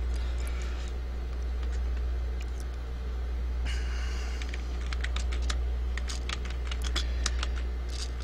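Fingers type on a computer keyboard in a quiet room, producing a scattered run of light, close clicks in uneven bursts over a steady low electrical hum.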